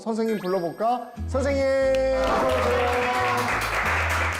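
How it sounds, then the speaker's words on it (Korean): A group bursts into loud, sustained clapping as a teacher enters a classroom-style studio for a lesson on youth labour rights. Voices call out just before, and talk continues over the applause. "박수 받으면서 들어오니까 완전 스타 된 듯한."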